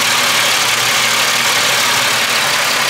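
A V6 engine in a 2000 Buick Century runs steadily at idle, a loud, constant broadband hum with no pauses and no voices.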